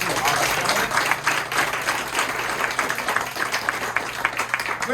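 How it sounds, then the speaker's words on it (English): Audience at a community meeting applauding candidates, a moderate, steady patter of clapping from a room of people, fairly even and somewhat subdued. "please, round of applause for our candidates"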